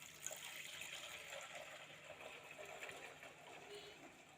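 Cold water pours steadily into a container holding clay oil lamps being soaked for cleaning, with a continuous splashing, trickling sound, close by and fairly quiet.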